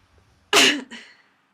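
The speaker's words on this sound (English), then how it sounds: "Dramatic coughing." A single dramatic cough in a courtroom video game scene, one sharp harsh burst followed by a shorter weaker second push, close and alone.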